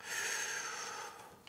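A deep, close breath drawn in through the nose, a single loud, breathy inhale lasting over a second, with no talking.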